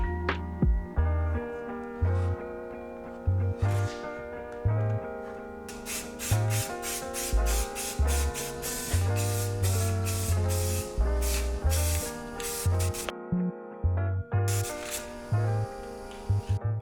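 Repeated short hissing bursts of an aerosol spray paint can coating a foam mold, pulsing rhythmically through the middle stretch, heard beneath loud, steady background music.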